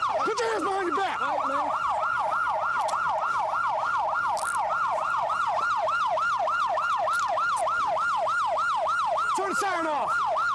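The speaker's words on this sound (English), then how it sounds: "Turn the siren off!" Police car siren wailing continuously in a steady rising-and-falling cycle, loud and close throughout during an arrest scene, with brief shouting voices at the start and end.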